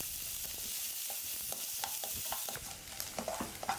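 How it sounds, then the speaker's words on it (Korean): Carrots are stir-fried in a pan for japchae, seasoned with salt and pepper, giving a steady close sizzle with frequent scraping and clacking of the utensil against the pan. "이번에는 당근을 볶을게요"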